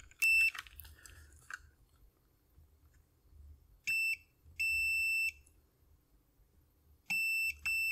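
A multimeter in continuity mode gives short electronic beeps in separate bursts, one long and several brief, during a repair of an Amiga 600 audio circuit, with faint handling noise and clicks between them.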